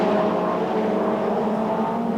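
A 1990 British Touring Car Championship car with over 500 horsepower races at Donington Park, its engine a steady, loud droning roar held at high revs with no voices.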